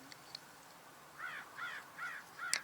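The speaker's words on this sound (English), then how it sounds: "Just heard a crow." A crow gives four evenly spaced caws, moderately distant, over a quiet outdoor background with faint birdsong, heard during a live bird-watching stream.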